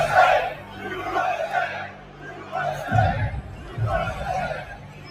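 A UFC match crowd cheers and chants in loud rhythmic swells, a roaring mass of voices rising and falling in waves.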